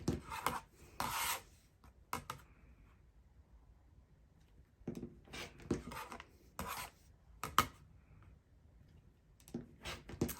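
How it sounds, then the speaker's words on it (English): A rotary cutter slices quilting fabric along a ruler in several short rasping strokes, quiet and close, separated by pauses. "I just line that up on my seam and I go ahead and cut."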